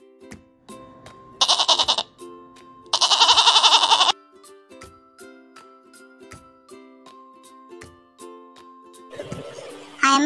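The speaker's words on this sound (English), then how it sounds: "I am a goat." A goat bleats in two loud, wavering calls, one short and one longer, over light backing music, and a shorter bleat-like burst comes at the close.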